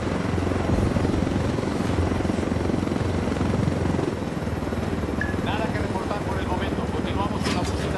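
Helicopters whir and thump in the video game Ghost Recon Wildlands, set in Bolivia; a loud, continuous rotor drone dominates, with voices talking over it and brief electronic tones near the end.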